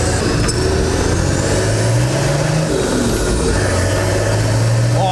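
A turbocharged TD42 diesel engine in a Nissan Patrol accelerates hard through the gears, a rising, strained drone with a high turbo whistle sweeping above it, cut by a brief shift, heard from inside the vehicle on the road.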